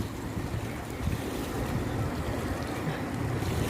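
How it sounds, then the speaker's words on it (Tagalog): Rough sea water surges and churns continuously in a strong current with high waves, mixed with heavy wind buffeting the microphone. "Lakas ng agos ng alon no."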